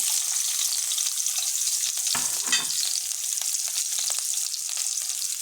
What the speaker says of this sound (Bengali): পেঁয়াজটা ভালোভাবে ভাজতে হবে।